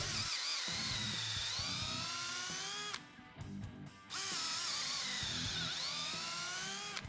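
A cordless drill whines steadily as it bores down into a treated 6x6 timber, stopping briefly midway before revving up again, loud and close with no talking.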